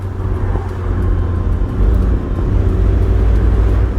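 Naturally aspirated engine of a BMW 330Ci convertible, a steady loud low rumble heard from close by, holding an even drone with a slight rise in intensity partway through, no voices over it.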